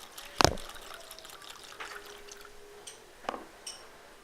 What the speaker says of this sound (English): Pour the denatured alcohol into a container.